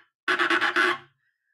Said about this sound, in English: You get this kind of vibrating sound.